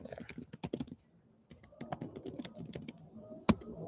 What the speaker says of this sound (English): So let me type that in there.